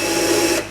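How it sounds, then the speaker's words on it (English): A power drill bores into a wooden board for a planter box, giving a steady close whine for most of the moment before it cuts off abruptly near the end. "she's pushing on the back of the drill"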